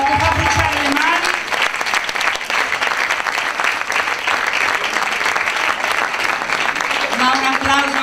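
Audience applause for students after a gospel performance: loud, dense clapping from a big crowd that runs unbroken and close, with a voice speaking briefly at the start and again near the end.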